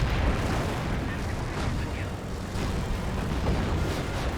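In a Company of Heroes battle, butterfly bombs go off amid a dense, continuous roar of explosions and gunfire, with no single blast standing out from the din.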